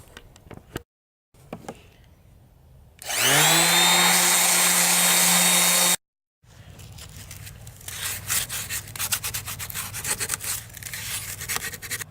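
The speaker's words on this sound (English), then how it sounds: "take my orbital sander and sand this down smooth on all sides" An orbital sander smooths a piece of wood on all sides: a loud, high whirring burst of a few seconds, followed by rougher, scratchy rubbing that continues unevenly to the end.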